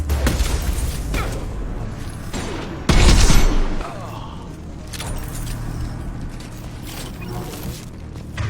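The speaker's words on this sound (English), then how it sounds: "Taking heavy fire!" Heavy gunfire in a Mass Effect 2 firefight: repeated sharp shots and bursts over a rumbling mechanical background, with one louder, denser barrage in the middle, and voices intermittently present.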